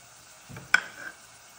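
Onion stirred in a little olive oil in a pot, a soft brief sizzle followed by a single sharp clink of a utensil against the pot, then a short scraping stir.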